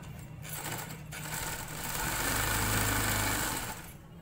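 A sewing machine runs close and steady as it stitches the edge of a girls' box-pleat trouser, a continuous whirring hum that swells slightly in the middle before easing off, with no talking.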